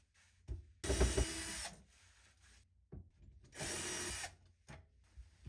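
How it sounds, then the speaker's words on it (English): A cordless drill backs out the screws holding a kitchen sink down to OSB, with two short whirring bursts and rubbing, scraping handling noises between them, fairly close and moderately quiet. "you take your drill and take the bolts or the screws off."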